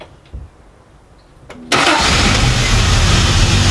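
A Triumph TR6 engine cranks over after a few faint clicks, the starter bursting in with a loud, sustained churning whir that continues close up to the end, without voices.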